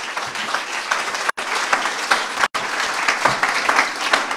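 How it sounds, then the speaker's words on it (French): Audience at an awards event for the year's best MOOCs applauds steadily, with dense, sustained clapping that breaks off briefly twice before resuming at full strength. "On l'applaudit également, bravo."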